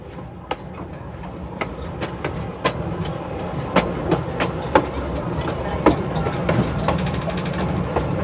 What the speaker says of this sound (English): now 484 is bringing the rest of the train across to couple back up with her on the other end.